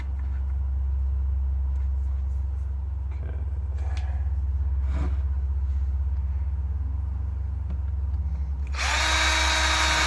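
A power drill whirs steadily at close range as it drives a screw into a skateboard, holding its pitch throughout before a louder, brighter burst of motor noise at the end.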